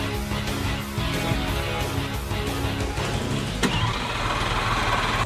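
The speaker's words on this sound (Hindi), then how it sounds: "अगले हैक में हम हमारे कार के एग्जॉस्ट को इस प्लास्टिक वाली ट्रैश बैग से मॉडिफाई करने वाले हैं" A car engine with a plastic trash bag fitted over its exhaust runs loudly and steadily with a mid-pitched rumble, close by and without talking, and a sharp click comes partway through.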